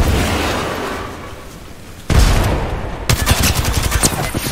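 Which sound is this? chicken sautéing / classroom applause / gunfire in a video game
gunfire in a video game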